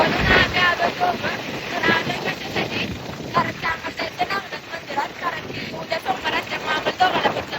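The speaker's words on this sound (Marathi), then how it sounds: "त्याचं वारं सुटलं" Strong wind blows outdoors, buffeting the microphone in rough, uneven gusts that swell and ease, with faint voices partly buried beneath the roar.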